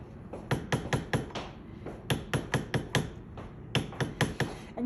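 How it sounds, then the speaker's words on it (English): A small hammer taps down a metal bezel setting around a cabochon gemstone, with steady rhythmic close metallic blows in quick groups and brief pauses between them. "regulate your hammer blows with anything you're hammering is to listen to it"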